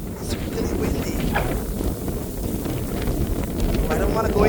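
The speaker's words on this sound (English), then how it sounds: "So windy, little marshy area." Strong wind gusts in a salt marsh at Marine Park in Brooklyn, New York, buffeting the microphone with a steady, loud, low rumbling roar that runs throughout.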